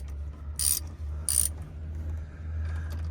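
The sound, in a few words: tightening a radiator fitting on a 2020 Ram 1500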